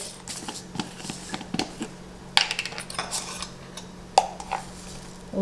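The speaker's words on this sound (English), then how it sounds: "Now we're going to mash the taro and the yam together" Taro and yam mashed together in a bowl with salt, a series of soft scattered knocks and clinks of utensil against the bowl, fairly quiet.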